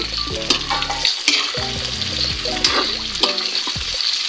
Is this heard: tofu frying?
yes